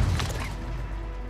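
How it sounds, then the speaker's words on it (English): A stun grenade detonates in Call of Duty: Modern Warfare II, a sharp low-heavy burst at the start that decays into a ringing, muffled tail lasting about a second. "Throwing a stun grenade! Stun grenade!"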